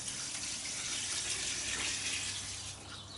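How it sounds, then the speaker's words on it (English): Water pours steadily onto crushed grape skins in a wine-making vessel, a continuous close splashing gush that holds even for a few seconds before easing slightly at the end. "what I'm going to do now is to add another 3 pints of water"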